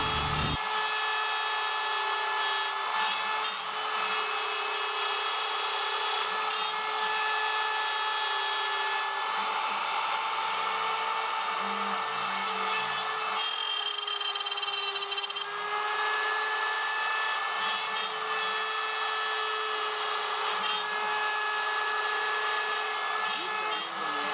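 A CNC router bit carves a pattern into a wooden tabletop, producing a steady high-pitched whine with shifting tones as it cuts, loud and continuous for the whole stretch without speech.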